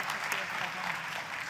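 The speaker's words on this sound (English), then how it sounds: "Give them one more round of applause, please." Symposium audience applauding at the close of a session, a dense steady patter of clapping throughout, with faint voices beneath.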